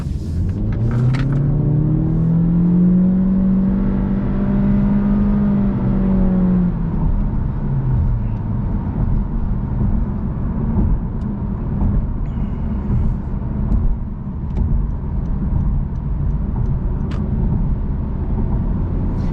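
A 2024 Honda Civic Hatchback EX-L moving slowly through a U-turn: a steady low engine hum and road rumble, with a brief rising then falling engine tone early on, and no talking.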